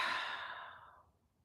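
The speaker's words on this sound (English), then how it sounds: "and a slow breath out." A single slow, soft exhale during a guided meditation, a breathy sigh that starts clearly close up and fades gradually into silence.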